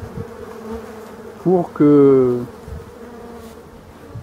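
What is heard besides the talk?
black bees buzzing at hive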